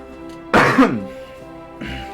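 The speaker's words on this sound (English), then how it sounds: "Man, I just can't stop coughing right now." A man coughs in a quick harsh burst, then gives a softer follow-up cough a moment later, close and loud against a faint background hum.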